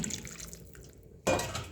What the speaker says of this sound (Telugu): ఇప్పుడు కొంచెం వాటర్ వేసుకోవాలి